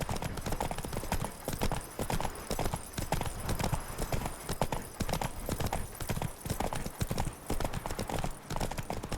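Roach, a horse in The Witcher 3: Blood and Wine, galloping with continuous rapid, close, loud hoofbeats in a steady rhythm.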